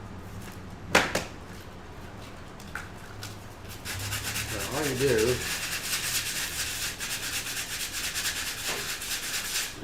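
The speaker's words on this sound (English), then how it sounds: "This one will probably need a little bit of sanding." Steady scratchy rubbing of hand sanding a resin coaster, starting a few seconds in and continuing evenly, with brief speech at the start.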